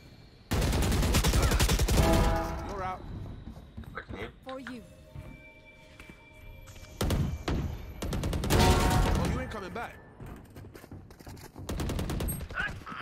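Gunfire in the shooter game Valorant, with loud bursts of rapid automatic shots separated by single cracks and quieter gaps, while players talk excitedly over the action.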